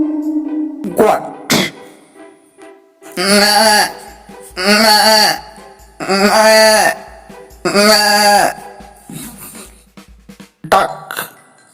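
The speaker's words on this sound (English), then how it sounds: "goat," A goat bleats in a series of loud, wavering calls with short pauses between them, close and unaccompanied, from a collection of animal calls.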